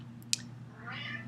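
A background cat lets out a drawn, fairly faint meow after a sharp click, heard over a steady low electrical hum.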